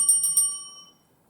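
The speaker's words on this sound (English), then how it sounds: "A warning bell will ring once at 7 minutes." A single crisp strike of a debate timing warning bell at a senior semi-final, three quick bright rings that decay into silence.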